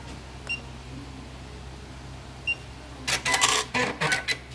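A Juki LK1900BN industrial bartack sewing machine stitches a box-and-cross pattern in Kevlar thread, preceded by two faint beeps, then a fast burst of loud mechanical clattering stitches in short bursts, close and without talk.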